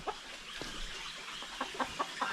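Chickens cluck close by in a farmyard, short clucks scattered over steady background noise, a quicker run of them near the end.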